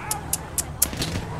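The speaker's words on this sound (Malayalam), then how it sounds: "യെസ് നമ്മളെ ആരോ വെടി വെക്കുന്നുണ്ട്." Gunfire aimed at the player in GTA 5, a run of four or five crisp, evenly spaced shots over steady game background noise.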